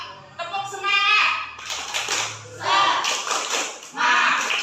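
Schoolchildren in a classroom clap out a rhythmic spirit clap in quick bursts, mixed with their loud chanting voices that repeat in three rising swells.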